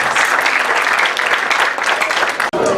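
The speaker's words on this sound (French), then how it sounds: "Je vous demande d'applaudir encore" A graduation ceremony audience at UPAG in Gonaïves applauds, producing loud, dense, continuous clapping that briefly cuts out near the end before resuming.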